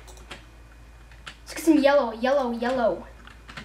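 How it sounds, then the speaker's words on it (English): Computer keyboard typing during a Minecraft build battle game: a few scattered, light key clicks, then a voice talks over them. "keep on typing in random stuff"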